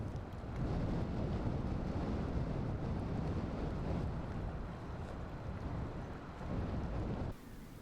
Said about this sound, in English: the subtropical westerlies turn into strong winds east of the mountains